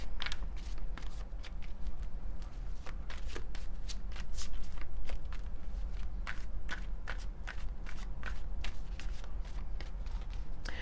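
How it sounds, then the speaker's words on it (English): Tarot cards being shuffled up close, a steady run of crisp riffling snaps and soft slides repeating for about eleven seconds with no talking. "So let me pull another card on that."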